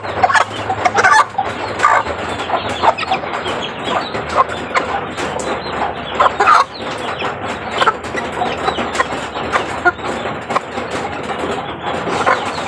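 Chicks and hens peck at feed, with rapid tapping pecks and constant clucking and peeping close by, a busy, uneven flurry that runs throughout with no talk.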